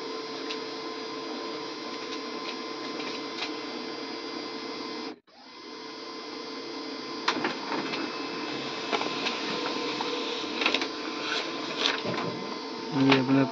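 An inkjet printer runs a print job after an ink cartridge refill, whirring and clicking steadily with a short pause before mechanical feeding and head movement resume, ending in a few louder clunks.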